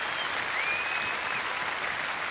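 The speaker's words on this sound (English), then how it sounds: "here's some applause with some whistles in it." Applause with whistles in it, a steady wash of clapping with a couple of high sustained whistles rising over the middle, moderately loud and continuous throughout.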